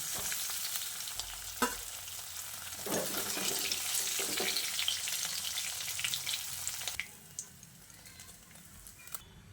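Paneer cubes frying in hot oil in a pan, a steady close sizzle with occasional stirring scrapes and clatter, the frying noise dropping away near the end.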